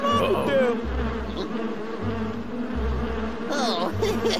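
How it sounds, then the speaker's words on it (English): Cartoon bees buzz steadily and loudly in a swarm, circling, over a low pulsing music bed, with a few brief voice-like sounds. "Our bee friends are circling around Logger Vick!"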